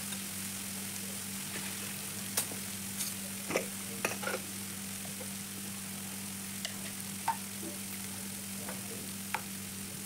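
Onions frying in a pan with salt until golden for a quick egg rice, a soft steady sizzle with scattered faint ticks and stirring clicks, close and fairly quiet, with no talking.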